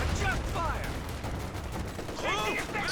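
Gunfire crackles in a Company of Heroes 2 battle, with a machine gun among the rapid shots, steady and dense throughout while a voice talks over it.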